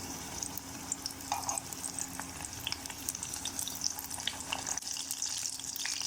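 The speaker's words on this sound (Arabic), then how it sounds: "وهاي جاي أقلب هيج" Kabsa being stirred in a cooking pot, heard as a continuous close sizzle and frying hiss with scattered scraping and stirring noises and no speech.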